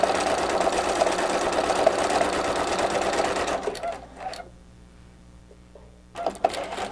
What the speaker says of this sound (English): Now I'm stitching the center veins of each leaflet with this solid dark green thread.